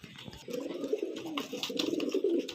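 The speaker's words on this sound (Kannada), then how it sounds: "ಗುಟ್ರಿಗೆ ಹೊಡೆಯೋದು ತೋರಿಸ್ತೀನಿ ನೋಡ್ರಿ" A pigeon kept in a home loft coos close by in two soft, rolling bouts, a low throaty rhythm with faint background noise.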